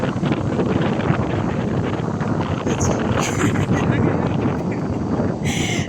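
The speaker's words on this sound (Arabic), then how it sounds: "اجواء اسكندريه النهارده رياح، في هواء، في سحب" Strong wind in Alexandria, Egypt, buffets the microphone in a constant loud roar, with faint hissing gusts and no clear voices.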